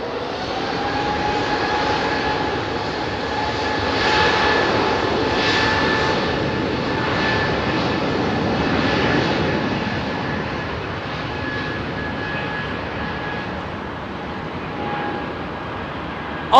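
A Boeing 767 jet with Pratt & Whitney PW4 engines at London Heathrow Airport: a steady, broad engine roar with a whining tone, moderately loud and from a distance, swelling and fading slightly as the aircraft moves.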